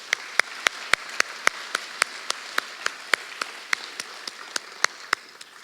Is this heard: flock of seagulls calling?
no